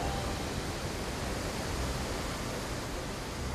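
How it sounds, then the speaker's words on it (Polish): A waterfall in the video game Kingdom Hearts 3 gives off a steady, unbroken rush of white-noise-like water, even and continuous from start to finish with no voices. "Fajnie słychać wodospad."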